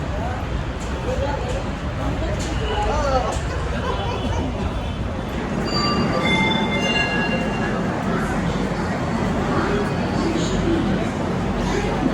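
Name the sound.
train station with passing train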